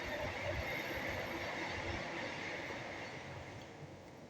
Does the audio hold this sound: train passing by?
yes